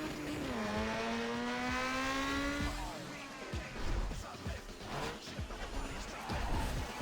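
A car engine in Need for Speed Underground on PS2 revs upward through a gear change, then gives way to rougher driving noises and thumps.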